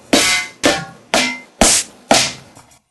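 Roland SPD-S sampling pad playing its industry patch with effects on: five loud, metallic industrial hits about half a second apart, each with a washy, reverberant tail, heard alone.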